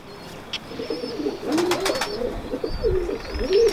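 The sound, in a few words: pigeon cooing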